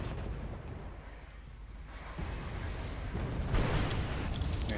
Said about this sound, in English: I wouldn't be surprised if those paladins are starting to fire.